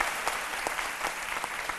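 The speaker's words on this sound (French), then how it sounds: "On applaudit très fort notre jazziste." A studio audience applauds a jazz musician on a midday TV show, dense steady clapping throughout, fairly close and even in level.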